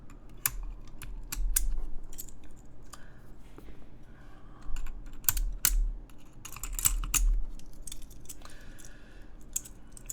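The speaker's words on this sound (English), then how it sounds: "I'm gonna start removing caps in the meantime." Mechanical keyboard having its keycaps pried off, a run of sharp, close plastic clicks and snaps in irregular bursts with quiet handling noise between them.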